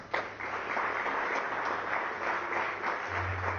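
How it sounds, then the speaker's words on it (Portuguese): A church congregation applauds during a sermon, a steady wash of many hands clapping close and fairly loud for several seconds, with a low hum underneath. "Dê um aplauso ao Senhor Jesus."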